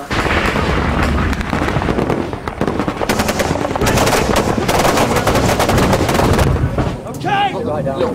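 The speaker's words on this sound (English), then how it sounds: "Taking small arms fire and RPG about 200 metres to our front." Small arms fire and RPG erupt in Helmand, Afghanistan: loud, dense bursts of rapid gunfire roll almost continuously and close by, easing slightly near the end, where a voice briefly cuts through.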